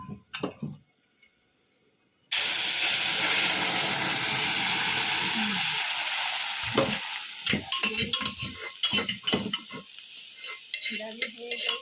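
Oil sizzling loudly in a pan with salt and turmeric added for a duck and pumpkin curry, a sudden burst of steady frying hiss with scraping stir noises and crackles breaking through, no talking.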